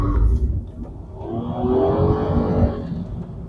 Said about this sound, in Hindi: this is an electric motor ना, ये इलेक्ट्रिक मोटर की आवाज़ है